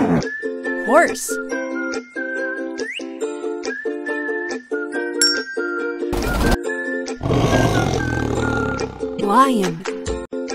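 A lion roars once in a children's animal puzzle game. The deep, gravelly blast lasts about two seconds and cuts through steady, upbeat looping music with scattered clicks and whistle-like game effects.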